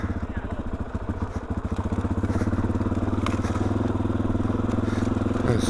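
A Suzuki DRZ400E motorcycle engine chugs in a steady, pulsing rhythm on a rocky technical trail, with some crunching and clattering underneath, loud and close throughout.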